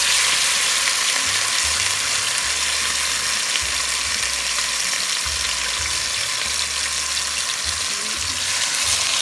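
Seasoned chicken pieces frying in vegetable oil in a pot, a loud continuous crackling sizzle with faint low clinks underneath and no talk.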